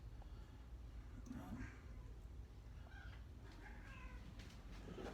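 Several house cats meow in a basement workspace, a few short cries over steady low background noise and faint talk.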